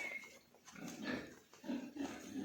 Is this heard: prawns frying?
no